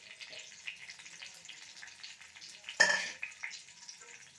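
Halwa ingredients roast in a pan with cardamom powder added until golden, a soft continuous frying sizzle with a brief louder burst of stirring partway through.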